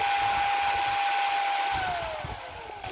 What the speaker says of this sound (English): I'm going to try to drill this pin out on that lock